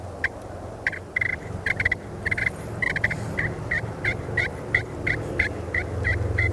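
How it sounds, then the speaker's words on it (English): Soft turkey clucks, purrs and yelps from a friction call during late-season turkey hunting come as a steady series of short, evenly spaced notes, close and clear over a low outdoor rumble. "I really like a friction call to do that, doing soft clucks, purrs, and yelps"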